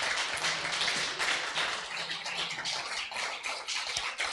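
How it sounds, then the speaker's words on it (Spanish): Members of a church congregation at a Sunday service clap in praise of the Lord, a rough, uneven burst of hand claps that swells and dips irregularly throughout, fairly close and with no voices over it. "Un aplauso fuerte a nuestro Señor"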